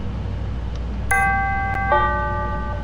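A CTA 5000-series Yellow Line train sounds its door-closing chime: two clear, ringing electronic tones, one after the other, over the steady rumble of the train.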